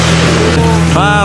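A motorized bangka boat sets off on open water, its engine droning loud and close, with people's voices rising over the motor near the end.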